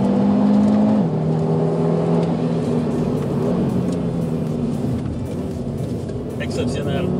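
An Audi RS 3 drifting on a race circuit, its engine droning and shifting pitch as it holds revs through the slide, with a brief tyre chirp near the end and someone talking over it.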